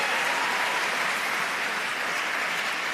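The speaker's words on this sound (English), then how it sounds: "Let's give them a round of applause." A gala audience claps for two girls, Abby and Vivi, at a charity evening, producing a full, even burst of applause that holds steadily throughout without any voices.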